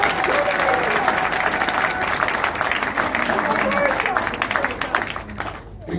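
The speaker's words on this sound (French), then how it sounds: "Applaudissez s'il vous plaît." Audience applause at a cultural ceremony with a minister and comedians, dense steady clapping from a crowd over several seconds, tapering toward the end, with voices mixed in.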